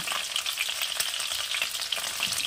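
Potato and cauliflower pieces frying together in hot oil for a Bengali fish curry, a continuous soft sizzle and crackle, close by and quiet, with no voices.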